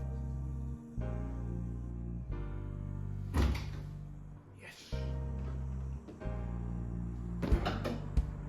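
A seized door on a Rolls-Royce Corniche is wrenched at with metallic thunks, clanks and scrapes, several bursts of effort spread across the clip over a steady low engine-like hum.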